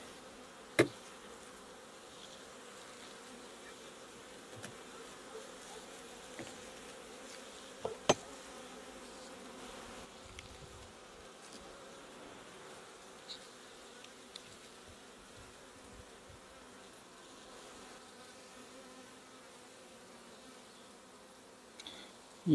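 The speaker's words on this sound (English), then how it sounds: "the bees are getting a bit cranky as well" A steady, droning hum of many agitated honeybees buzzing around an open hive throughout, with occasional faint knocks and clicks over the constant swarm.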